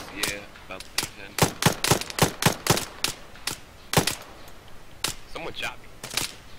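Gunfire in the Arma 3 military video game, a forest firefight: a rapid series of sharp, loud shots in bursts with brief gaps, some single reports and some quick doubles, with no talk over them.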